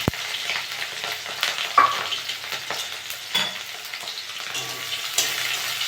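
Chopped garlic, green chili and onion fry in oil with panch phoron, giving a loud, close, continuous sizzle broken by occasional spoon scrapes and stirring knocks.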